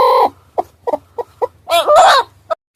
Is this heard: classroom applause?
no